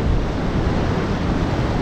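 Sea waves break at a coastal pond, a loud, continuous roaring wash of surf mixed with wind buffeting the microphone, with no speech.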